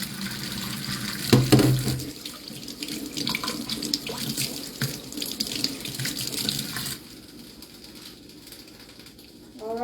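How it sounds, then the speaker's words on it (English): Tap water runs into a pot being filled for a double boiler while peanut butter cups are made, a steady close splashing stream that carries on for several seconds before trailing off, with faint birdsong in the background. "Put some water in there. This is called a double boiler."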